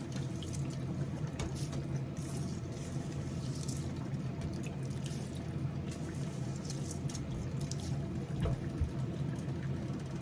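Tap water runs steadily into a sink while rice is rinsed, a continuous soft splashing with light patter and drips, alone and fairly quiet throughout.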